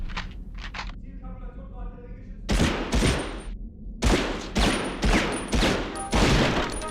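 Gunfire in the Medal of Honor game, played underground: several loud, sharp bursts of shots close by, separated by short gaps, after a few quieter mechanical clicks and tones at the start.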